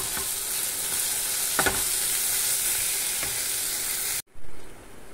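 A kadhai of mushrooms with fresh coriander is stirred through in a close, steady hiss of sizzling with a few scraping strokes. The sound cuts off abruptly near the end, then there is a brief muffled thump.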